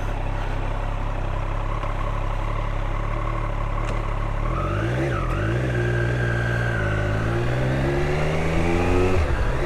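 A Triumph motorcycle engine runs steadily just after an early-morning start, its idle settling before the revs rise and fall in a few swells, loud and close with no talking.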